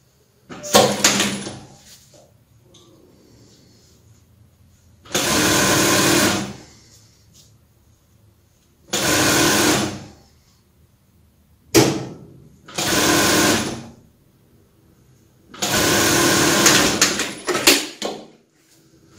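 Sewing machine stitching the collar facing of a dress, in bursts: several loud, steady whirring runs of a few seconds each, separated by quiet pauses, close up with no talking.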